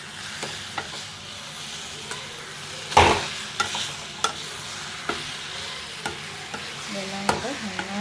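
Cashews and a cooking mixture are stirred in a frying pan for a kids' snack: a soft background sizzle with repeated spoon scrapes and taps, one louder scrape near the start and the rest spaced steadily, heard alone without talk.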